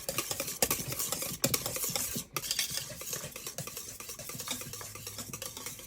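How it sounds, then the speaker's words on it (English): A utensil stirs ground nutmeg and ginger into a pumpkin cream cheese batter for brownies, giving soft, close scraping and clinking sounds in an uneven rhythm with a few sharper taps against the bowl. "Now mix them into it until combined."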